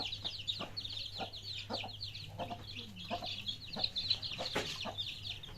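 Chicken clucking comes in a string of short, uneven bursts, faint and close-ish over a low steady hum; a human voice imitating a hen clucking may account for it.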